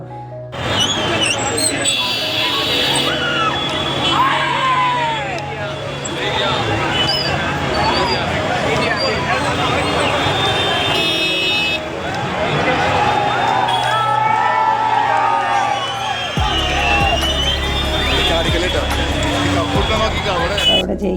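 Crowd noise from a public big-screen cricket screening at a town junction, a dense continuous hubbub of many voices with shouts and cheers, loud and close throughout.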